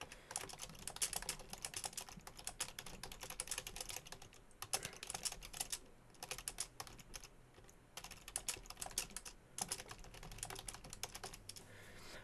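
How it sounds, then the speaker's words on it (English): Steady, fast typing on a computer keyboard while entering text into a Google Docs document, continuous close-up key clatter with brief pauses between bursts, no voices. "So I'm going to first type some test text here."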